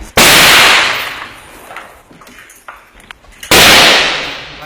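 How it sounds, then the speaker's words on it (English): Enemy sniper fire from across a river during urban combat in Marawi: two loud, sharp gunshots a few seconds apart, each followed by a long echoing decay, with quieter clatter between them. "taking fire. Enemy snipers across the river."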